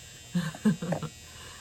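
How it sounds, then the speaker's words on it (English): A household clothes dryer's end-of-cycle buzzer sounds in a home as a few short, low, rough buzzing bursts. The bursts are fairly quiet and heard alone with no talking. "that's my dryer. It always does it twice."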